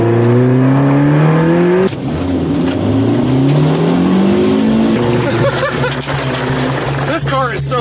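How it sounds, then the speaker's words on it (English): Honda Fit rallycross car accelerating hard through gears, its engine rising in pitch in repeated loud sweeps with a shift break, close up from inside, with a voice talking over the revving engine. "This car is so much fun."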